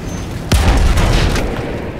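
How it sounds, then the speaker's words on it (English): An explosion in the video game Battlefield 1 bursts as one sudden loud boom, followed by a rumbling roar and debris that fade slowly over about a second and a half. "No, there's an explosion."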